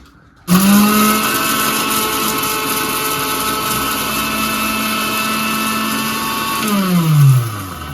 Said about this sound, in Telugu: మిక్సీ పెట్టాలి ఇప్పుడు ఓకే